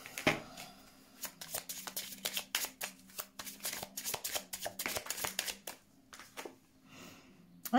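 Tarot cards being shuffled, a fast run of crisp riffling bursts in quick repeated rhythm, close and fairly loud, with a short pause near the end before a final burst.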